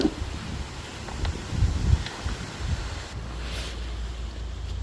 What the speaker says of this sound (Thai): ลมเย็นดีอ่ะเพื่อน